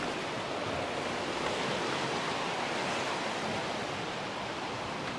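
A fast-flowing river rushes past in a steady, loud, unbroken roar with no pauses or voices.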